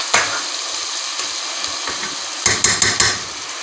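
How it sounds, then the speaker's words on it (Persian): Onions frying in oil with turmeric in a pan, a steady soft sizzle broken by several sharp clacks and scrapes of a utensil against the pot, with no talk. "میذارم یه مقدار دیگه پیازم سرخ بشه، یه مقدار دیگه نرم بشه."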